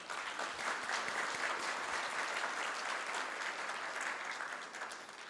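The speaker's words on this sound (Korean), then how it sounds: "그런 의미에서 한번 박수 한번 쳐주세요" Applause from an audience at the 2020 Herald Finance Forum, a dense, steady clatter of many hands that fills the room for about five seconds and then tapers slightly at the end.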